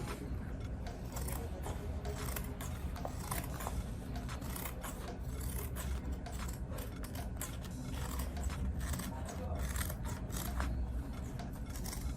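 Scissors cut out Ankara fabric along traced stitch lines, with quiet repeated snips and rustling fabric heard close and steady throughout, with no talking.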